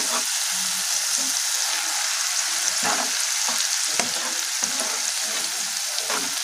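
Masala spice paste for chicken rezala frying in a pan over medium-low flame, with a constant bright hiss and light, occasional stirring taps.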